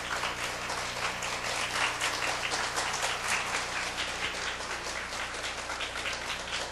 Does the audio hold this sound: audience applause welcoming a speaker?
yes